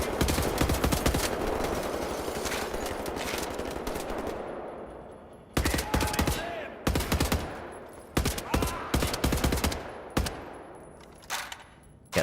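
Rapid automatic gunfire from the World War shooter Wolfenstein, loud and close, with long sustained bursts at first and then shorter staccato volleys separated by brief pauses.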